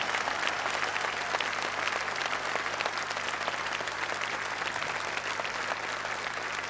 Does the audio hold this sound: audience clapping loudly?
yes